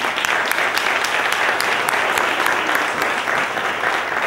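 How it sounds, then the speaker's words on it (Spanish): An awards gala audience claps steadily and energetically, a dense wash of applause that holds at an even level throughout. "Ahora sí, es el momento del aplauso, Bertele."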